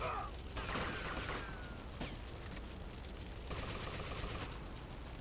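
Gunfire in the game GTA Liberty City Stories, bursts of rapid shots in clusters over a constant background, with sharp bright impacts at the start, middle and end.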